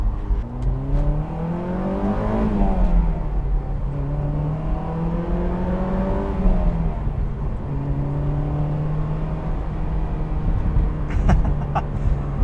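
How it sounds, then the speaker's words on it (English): Honda S2000 AP1 engine revving freely while driving, rising and falling through the revs in several climbing sweeps, steady and fairly loud from inside the car with no talk. "The revs are very free revving."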